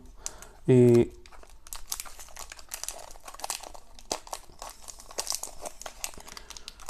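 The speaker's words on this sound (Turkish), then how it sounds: "şöyle hemen paketimizi açalım" Eti Gold chocolate wafer wrapper being torn open, a short loud crinkle burst followed by scattered faint rustling and handling noises.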